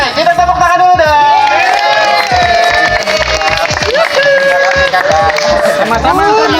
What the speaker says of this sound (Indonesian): Kita tepuk tangan dulu dong.